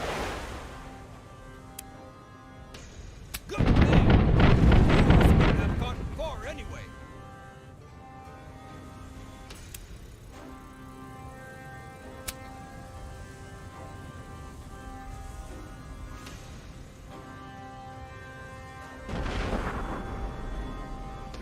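Cannon fire in the pirate naval video game Tortuga: A Pirate's Tale: a loud, booming broadside roars for a couple of seconds and rumbles away. A softer blast follows later over steady background game sounds.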